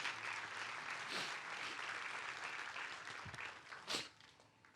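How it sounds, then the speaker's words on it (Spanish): A church congregation applauds loudly at the pastor's call during a Spanish-language sermon, producing a fairly even wash of clapping from many hands, with a few sharper swells and a louder burst near the end as it begins to fade. "Denle un fuerte aplauso a Dios."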